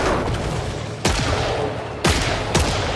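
Gunfire in the shooter Killing Floor 3, a steady roaring wash of continuous shooting broken by a few heavy, sharp reports about a second apart, loud and close with no talk over it.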